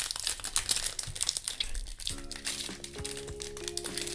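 A foil pack of Topps trading cards torn open by hand, close crinkling and tearing in quick bursts, with a faint tonal hum underneath in the second half.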